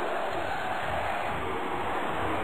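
Wrestling video game arena crowd in Wrestling Revolution, a steady loud roar of many voices booing and shouting with no pauses, filling the whole stretch evenly.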